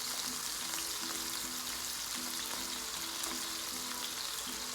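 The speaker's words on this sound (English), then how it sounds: "You hear the sizzling?" Chicken for quesadillas sizzles steadily in a frying pan, a constant crackling hiss with small pops, close and fairly loud, with no talking.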